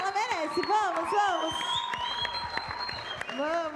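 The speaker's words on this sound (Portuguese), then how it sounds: "Vamos aplaudir a Mari." A crowd at a church gathering applauds and cheers while a host's voice, lively and pitched, speaks over the clapping; steady applause underneath with some whoops.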